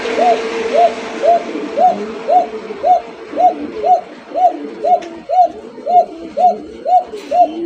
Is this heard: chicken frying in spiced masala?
no